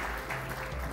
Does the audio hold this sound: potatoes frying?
no